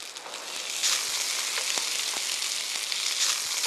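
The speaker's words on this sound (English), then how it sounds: "A very quick saute." Tuna searing in salad oil in a Teflon-coated pan gives a steady, loud broadband sizzle that swells after a moment, with a few soft clicks and taps of movement in the pan.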